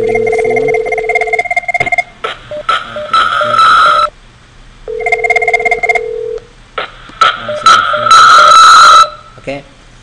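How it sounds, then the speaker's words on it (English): An IP phone rings in a CCNA voice lab, loud and close, with repeated electronic ring bursts separated by short gaps and a softer underlying hum. "So there you ring the phone."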